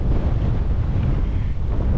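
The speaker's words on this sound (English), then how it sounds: "it's so windy today" Strong wind blowing across Dartmoor moorland, a loud, continuous low buffeting rumble battering the microphone with no other sounds.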